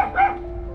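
A single short dog bark, close and fairly loud, a quick yip-like woof that lasts under a second.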